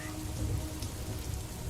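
Steady rain falling on surfaces, a dense, even hiss and patter with a low rumbling undertone, continuous and fairly soft with no voices.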